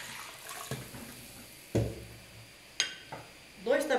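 Two litres of water pour into a pot of caldo de mocotó in a home kitchen, a steady close splashing with a few clunks and knocks, and a faint voice underneath near the end.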